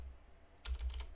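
Quick burst of computer keyboard typing, several rapid close key clicks following a short quiet pause, with no voices.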